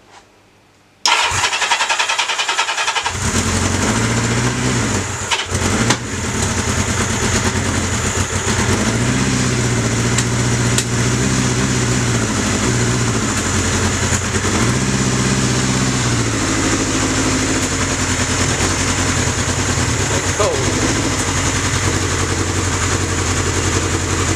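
A Kawasaki Z650 cafe racer motorcycle engine cranks and fires after a moment of quiet, then settles into a steady, loud, rumbling idle that holds alone for over twenty seconds with small fluctuations.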